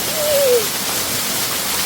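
A waterfall on private land gives off a steady, dense roar of falling water, close and fairly loud, with a brief whistle-like tone near the start.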